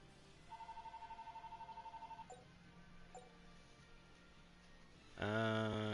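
Phone call ringing in the video game Tales of Graces, a fast pulsing electronic ring lasting about two seconds, then faint chirps, before a louder game sound cuts in near the end.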